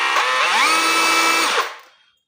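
A cordless hammer drill spins in normal drill mode, a loud, steady high whine held close for about one and a half seconds before winding down and fading out.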